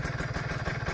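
A motorcycle engine with a PWK 30 carburetor idles at 1000 rpm with an even, rapid low thumping pulse and a rattling mechanical clatter, close and steady, with no talk.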